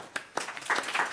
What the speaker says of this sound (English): I've never seen so many people applaud for a failing test